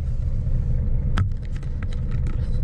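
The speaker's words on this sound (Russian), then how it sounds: "Машину завел, минутка-две поработал и поехал." A Scania truck engine idles to warm up, a steady low rumble heard from close by, broken by a short sharp click and faint higher sounds.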